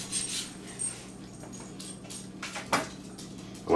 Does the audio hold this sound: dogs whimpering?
yes